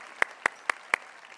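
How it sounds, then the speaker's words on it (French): Four crisp, evenly spaced claps ring out in a church congregation, moderately faint with a steady beat, then stop, leaving quiet. "Une bonne main d'applaudissement pour le stress et les fardeaux que nous portons"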